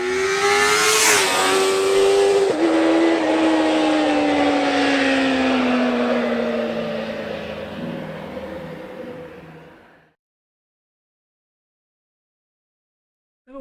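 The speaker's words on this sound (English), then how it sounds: "Ever wondered what a motorbike sounds like without the baffles on the back?" A Yamaha Fazer motorbike with its exhaust baffles removed revs hard, a loud, raw engine holding a rising then slowly falling roar for about ten seconds, then cuts to silence.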